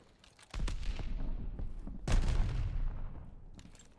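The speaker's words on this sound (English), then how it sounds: "Tossing grenade." Grenade blast in the Call of Duty Vanguard game, two sharp booming bursts with a rumbling tail, the second louder, over faint background gunfire.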